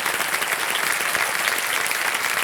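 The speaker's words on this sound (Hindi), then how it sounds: "तालियां बज जाए इनके लिए।" Continuous studio audience applause on a TV quiz show, a dense, even patter of many hands clapping at moderate volume for the whole stretch.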